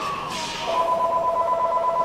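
A telephone rings in a room during a Halo 3 gaming session, a steady electronic two-tone warble that holds on through the clip, moderately loud over a faint background hiss.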